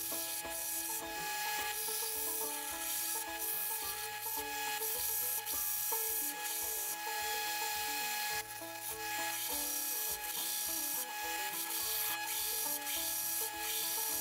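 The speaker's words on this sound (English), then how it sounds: "we're grinding all the way to the drawn line, and then getting rid of that line" Steady, continuous abrasive grinding of a scrap 1095 steel knife blade down past a drawn line, a loud unbroken rasp with a constant motor whine and brief dips as the blade shifts, no talk.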